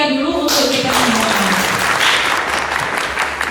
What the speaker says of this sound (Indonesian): Sekarang tepuk tangan yang meriah dulu untuk kita semua.